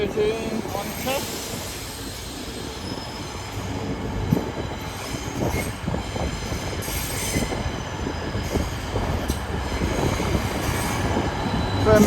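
Class 810 train on a test run through Newcastle station, loud rolling wheels with clickety-clack rhythm and squealing, continuous for about twelve seconds in a station setting.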